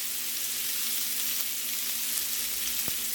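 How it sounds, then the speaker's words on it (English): Meat sears in a grill pan, turned repeatedly for grill marks, giving a steady close hiss of frying with a faint hum and one sharp pop near the end, no voices. "You want to sear them, get the grill marks, turn them, get the grill marks, turn them"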